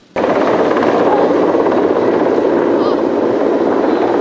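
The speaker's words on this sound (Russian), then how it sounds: "В небе вокруг дымовой завесы кружил вертолет." A helicopter circles in the sky above a smoke screen over blazing tank cars after a railway accident in the Novovyatsky district of Kirov, a steady loud rotor drone that fills the whole clip with no break.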